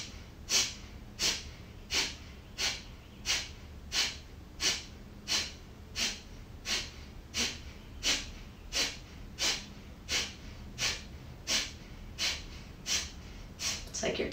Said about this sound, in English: Short, sharp exhales through the nose, pumping the belly back.